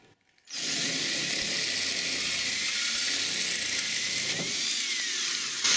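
A power drill bores through a pilot hole in an Affordaplane airplane build, starting abruptly after a quiet moment and whining steadily and loud close by for several seconds.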